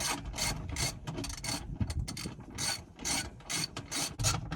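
A worn ratchet wrench clicks and turns in bursts of rapid ratcheting strokes while parts are stripped from a cabover truck, close and uneven in rhythm, with no talking.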